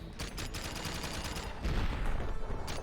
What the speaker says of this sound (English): Cool shotgun sound when you hit.